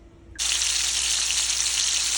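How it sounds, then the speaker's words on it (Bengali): Pumpkin pieces and rohu fish dropped into hot oil, a sudden loud sizzle that bursts in after a quiet moment and holds steady and close. "এগুলো আগে তেলে ভেজে নেব।"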